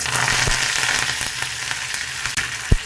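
Mustard seeds, urad dal and curry leaves crackle and sizzle in hot oil as a tempering for tomato rasam, a steady close frying hiss with scattered sharp pops and one louder burst near the end.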